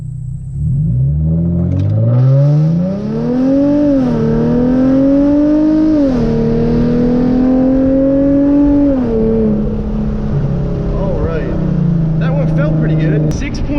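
A Hyundai Genesis Coupe 3.8 accelerates hard in manual mode, its engine note rising loudly through the gears with brief dips at each shift, heard close up from inside the car.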